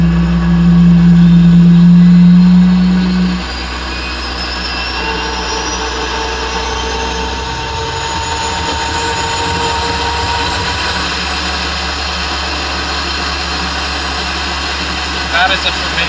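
A loud low hum gives way to a steady mechanical whine that rises slowly in pitch as the turbine engine of a Strv 103C tank spools up, with an idling rumble beneath.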